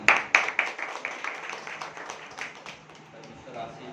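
A church congregation claps for a couple, the applause starting as a burst of sharp hand claps and thinning out over a few seconds as it fades.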